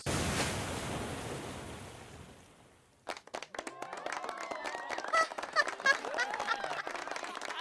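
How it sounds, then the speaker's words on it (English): Waves surge and crash in the game Twisted Wonderland, a broad roaring wash that fades out, then gives way to busier, brighter crackling water and splashes. "now the waves are reaching us as well"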